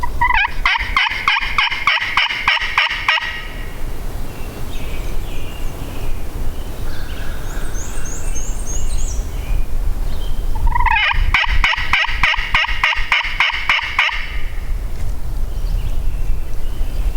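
A wild turkey gobbles loudly twice, each rattling call a few seconds long and separated by a quiet stretch, during a hunt in a Virginia national forest.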